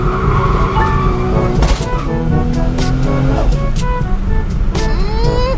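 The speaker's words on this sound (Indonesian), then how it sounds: "mesin RB26. Ayo dengerin deh suaranya." Loud, close Nissan RB26DETT engine running and revving, its pitch climbing and falling in several sweeps over a rough, constant rumble.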